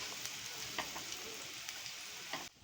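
Cabbage kofta balls shallow-frying in hot oil give off a soft, steady sizzle with faint pops and crackles. The sound stays close and quiet, with no talking, and breaks off abruptly near the end.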